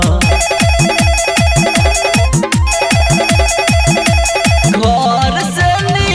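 An electronic phone ringtone melody repeats in rhythmic bursts over a thumping beat, played loud and close as part of a devotional Bol Bam song.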